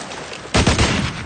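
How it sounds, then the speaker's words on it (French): A loud burst of automatic gunfire fired into the air breaks out abruptly after a quiet moment and rattles on for about half a second. "Tire une rafale en l'air!"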